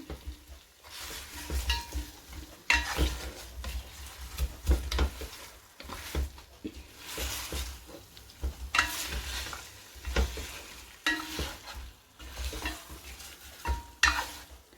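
Already-cooked chicken is tossed and stir-fried in sauce with sesame seeds in a pan over high flame: continuous loud sizzling and frying, with rhythmic scraping and stirring strokes against the pan throughout.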